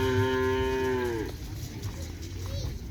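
A cow gives one long, loud, deep moo that bends downward and breaks off about a second in, followed by a low outdoor farm rumble and a faint second call.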